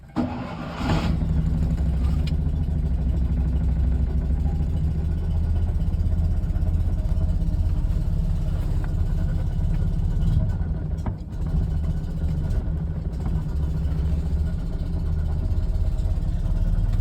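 A Fiat 126p (Polski Maluch) small engine cranks and catches with the choke half open, then settles into a steady, loud, slightly uneven idle that runs close by for the rest of the time.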